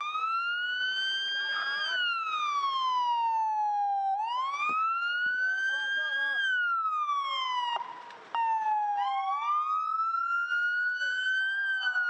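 Emergency sirens sound over a town to alert residents, a loud, continuous wailing tone sweeping slowly up and down in long cycles throughout, with a brief dip partway through.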